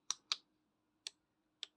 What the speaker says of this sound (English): You might hear that relay kicking in and kicking off.